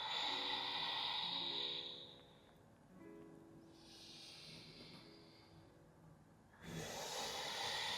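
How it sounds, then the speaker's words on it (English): A slow exhale during a diaphragm breathing exercise, a soft airy breath rising and falling, then a stronger rush of breath near the end, close and alone. "And exhale."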